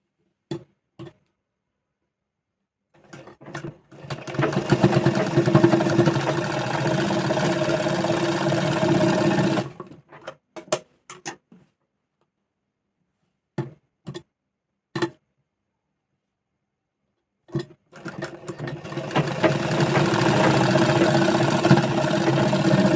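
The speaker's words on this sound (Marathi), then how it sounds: "शोल्डरला डबल टिप मारून घ्यायची आहे" A sewing machine stitching the shoulder seam of a one-piece dress, running in two long rapid whirring bursts separated by a pause filled with brief isolated clicks.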